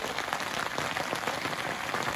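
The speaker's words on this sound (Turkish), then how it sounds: "yağmur hala şiddetini artırmaya başladı gök gürültülü" Heavy rain pours onto a camping tent in a thunderstorm, a dense, steady patter of drops drumming close on the fabric with no pauses, loud and unbroken.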